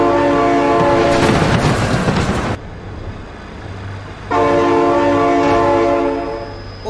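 A train passes close by with a loud, sustained horn sounding twice, separated by a short gap filled with rumbling rail noise and the clatter of the cars.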